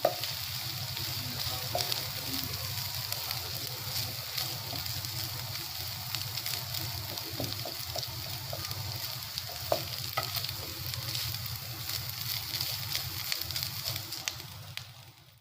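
Boiled boneless chicken is stirred in a frying pan, giving a continuous close sizzle with soft scraping and stirring sounds throughout, fading slightly at the very end.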